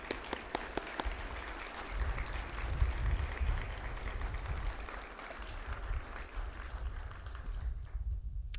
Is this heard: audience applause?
yes